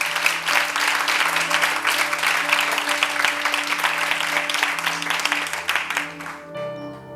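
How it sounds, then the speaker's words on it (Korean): A church congregation claps together in praise during a Korean worship service, a dense, steady burst of applause over a sustained organ or keyboard chord that fades out as the clapping stops. "우리 하나님께 영광의 박수 올려드립시다"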